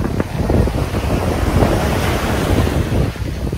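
Strong ocean waves at Boracay beach, a loud continuous roar of surf with heavy wind buffeting the microphone, close by and without speech.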